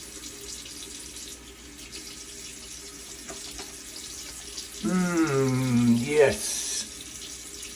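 A bathroom tap runs into a sink as water splashes onto a face during a wet shave routine, a bright rushing stream for about two seconds after quiet room tone, with a brief spoken word.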